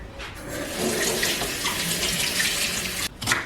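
An onion rinsed under a running kitchen tap, a steady close hiss of water splashing for a few seconds before cutting off briefly, then a short final splash; no voices.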